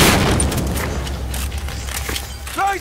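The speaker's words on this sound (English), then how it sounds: "that guy just ran right through a grenade that blew up in his face" A grenade blast in the video game Battlefield 4 booms loudly at the start and decays into a rumbling tail, followed by scattered game noises and a short voice near the end.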